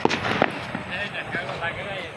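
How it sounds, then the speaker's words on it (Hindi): Firecrackers burst during Diwali celebrations, with a few sharp pops near the start over busy background noise and murmuring voices. "यहाँ पे कुछ चामुंडे पटाखे बजा रहे हैं"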